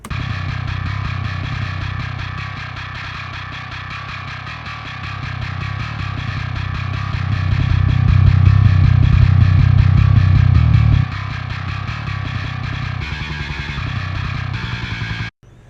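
A heavy, distorted bass guitar tone from the Nolly bass library chugs steadily with thick low end, growing boomier in the middle before settling back and cutting off.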